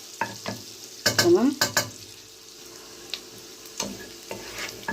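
A few garlic cloves fry in a granite pot, with bursts of sizzling and scraping stirring strokes coming in short clusters between quieter pauses, and a brief spoken word.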